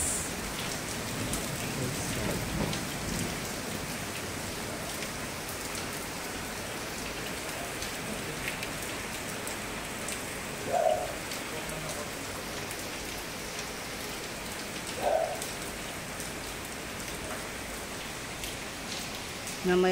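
Steady rain falls during repair work on an old ancestral house in the Philippines, a constant wash of drops on surfaces, with a few faint knocks.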